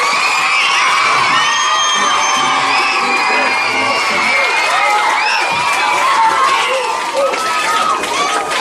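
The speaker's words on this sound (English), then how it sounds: "So give them a round of applause." A large audience at a church youth event cheers loudly for teachers, with shouts, whoops and high excited voices forming a dense, continuous roar that stays loud the whole time.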